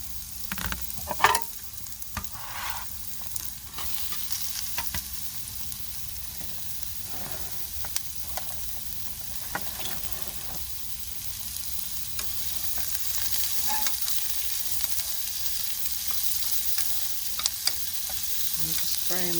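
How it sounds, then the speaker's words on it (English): Pieces of food frying in a pan inside a camper van, a steady close sizzle and crackle with small pops running throughout, no voices. "And just fry them up"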